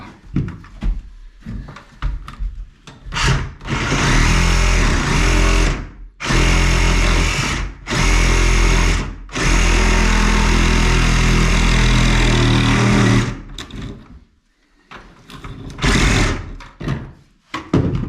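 A power tool, apparently a drill-type cutter, grinds through a plastic 2-inch shower drain in several loud, sustained bursts separated by short pauses, with no talk over it.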